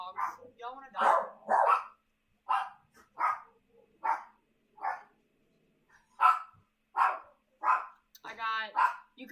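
Several dogs bark in short, separate bursts spread across the stretch, fairly close and clear against quiet gaps, with a few higher yips mixed in.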